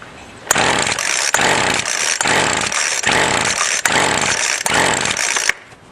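A gas string trimmer engine runs at full throttle, loud and buzzing, with a steady pulsing rhythm and a few sharp clicks. It cuts out abruptly after about five seconds.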